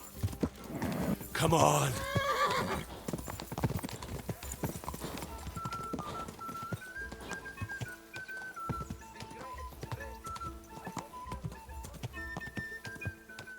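Horse hooves clip-clopping at a steady trot in Kingdom Come: Deliverance II, with a neigh early on, game music and a person talking over the rhythmic hoofbeats.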